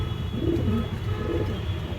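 Fulshira pigeons give a few soft, low coos close by, fairly quiet and brief.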